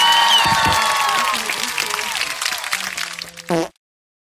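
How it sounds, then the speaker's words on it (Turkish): A small group claps and cheers briefly for someone who has just graduated, the applause thinning out before a short burst and an abrupt cutoff. "Bu arada şu an kamerayı tutan kişi mezun oldu. Bir alkış alalım."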